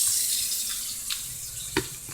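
Cold water runs steadily from a kitchen sink tap, a continuous hiss with a couple of brief splashes or clinks near the end.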